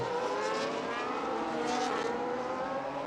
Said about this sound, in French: il est dans le diffuseur de Eden Jackson, prêt à bondir, prêt à aller le doubler.